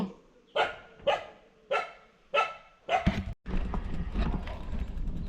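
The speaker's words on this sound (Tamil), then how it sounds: "நாய் குலைக்குது" A dog barks five times in a steady rhythm, fairly close, followed by a rush of rustling noise and background sounds.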